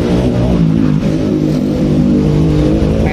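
A rough-running motorcycle engine with a hard starter idles close by, a steady loud drone with a light rapid ticking mixed in throughout.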